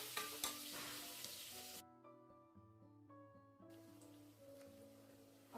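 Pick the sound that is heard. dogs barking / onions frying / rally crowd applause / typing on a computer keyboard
onions frying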